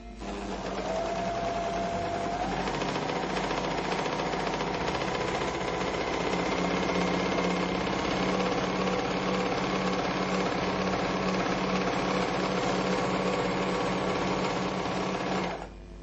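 A Merrylock MK-3000CL overlock machine stitching a rolled hem runs as a fast, steady mechanical whir with a rapid rhythmic needle chatter, starting up and holding an even speed for about fifteen seconds before stopping.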